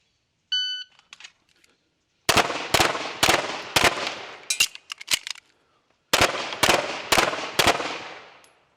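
Pistol shots crack sharply at a USPSA shooting stage, close and loud, first a single timer beep, then rapid strings of four to five shots separated by a pause for a reload.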